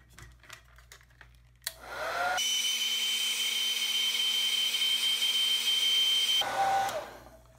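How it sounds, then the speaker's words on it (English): A heat gun blows a loud, steady whooshing roar for about four seconds, shrinking heat shrink tubing over solder connectors on a radio control ESC, motor and battery setup, preceded by faint handling clicks. "now we're simply going to heat shrink that with the gun"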